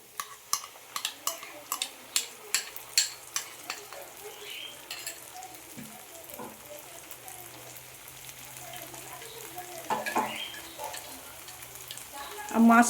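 Spice paste hits browned onions for makkhan wala bhuna chicken, first a run of sharp utensil taps on the pan, then a soft steady sizzle with scattered clinks and a louder clatter at the end.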